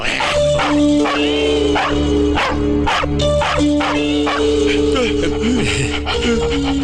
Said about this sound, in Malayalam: പട്ടിയാ